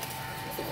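A pigeon gives a brief low coo nearby, a single soft throaty call over a steady background.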